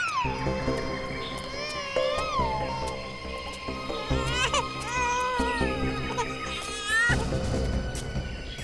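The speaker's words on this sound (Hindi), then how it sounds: "उस तरफ से बच्चे के रोने की आवाज आ रही है।" A baby wails on and on in long, wavering cries that rise and fall, fairly close, over a steady background hum.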